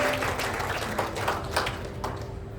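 Congregation at a Christian revival service clapping for Jesus, a steady wash of many hands at moderate loudness with a faint hum beneath, tapering slightly toward the end.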